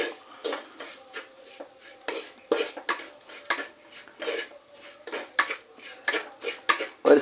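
Tomatoes are stirred into hot masala in a pan for a vattakari curry, a steady run of close metal spoon scrapes and clinks against the pan in an irregular rhythm, with no talking.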